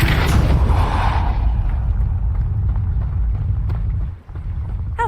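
A Depulso spell goes off in a Hogwarts video game, a loud booming whoosh that rolls and fades over a low rumbling game ambience.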